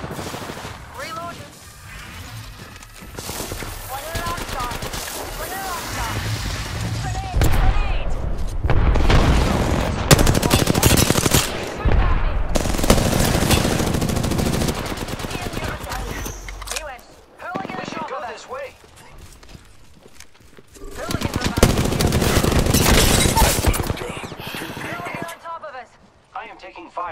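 Apex Legends gunfire in a fast squad fight, with bursts of automatic fire and booming shots crowding most of the stretch, loud and near, mixed with character voice lines and player chatter.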